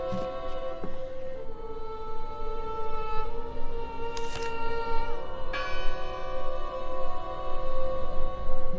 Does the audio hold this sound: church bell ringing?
yes